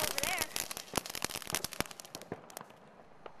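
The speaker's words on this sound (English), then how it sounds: "If you guys can hear that, that's other people. Other fireworks, though." Fireworks set off by other people nearby burst in a rapid series of sharp cracks and pops, dense at first and then thinning out, with voices talking partly over them.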